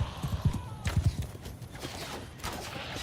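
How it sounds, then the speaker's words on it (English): Horse hooves clip-clopping in the Mount & Blade II: Bannerlord video game, a quick close rhythmic run of hoofbeats with a brief whinny, fading into a low background rumble. "Park my horse here."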